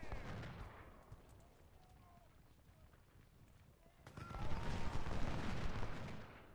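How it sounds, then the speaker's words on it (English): Musket volleys fired from cover by Civil War infantry in the strategy game Ultimate General: Civil War, a continuous rattle of distant gunfire that swells louder partway through, with talk over it. "I want them to volley from cover."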